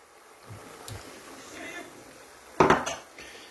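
Three eggs stirred in a pan with a utensil for a quick chicken pastilla, soft intermittent scraping and knocking, with one louder clattering scrape near the end and faint background murmur.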